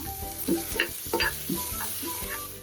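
Green chillies and ginger-garlic paste frying in hot ghee with cashews, stirred with several scraping strokes over a steady sizzle, close and fairly loud, with no talking.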